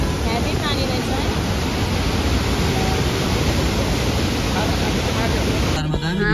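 Davis Falls in Pokhara running with heavy water, a dense, loud, unbroken roar of falling water that fills the scene and cuts off abruptly near the end.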